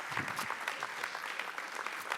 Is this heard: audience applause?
yes